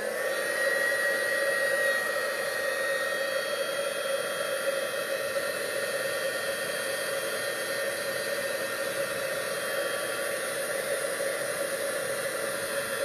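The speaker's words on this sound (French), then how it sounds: "Alors, c'est assez rapide le séchage avec ce pistolet qui a énormément de chaleur." A heat gun blows hot air onto crumpled paper to dry it, giving a steady, loud, unbroken whooshing roar that holds at one level from start to finish, with no voices.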